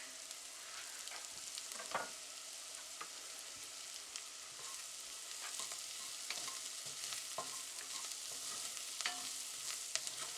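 Minced garlic and onion fry in a pan, a steady close sizzle broken by occasional crackles and pops, with no talking over it.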